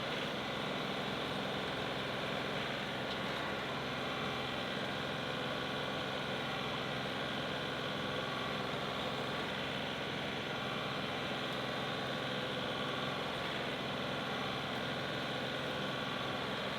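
Tractor engine running steadily at a constant low drone, fairly quiet and continuous with no talk, while clearing a fence row.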